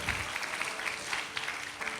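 Church congregation clapping steadily in praise during a worship service, a dense continuous patter of many hands, fairly faint and distant, with no clear talk over it.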